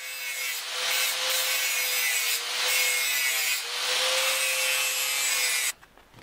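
A tool rasps across a wooden knife handle on a Viking-style knife, cutting a small chamfer in several long, steady strokes with a harsh, close scraping tone and brief pauses between passes.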